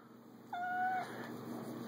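A pet cat gives a single clear meow, close and moderately loud, lasting about half a second against a quiet indoor background with no talking.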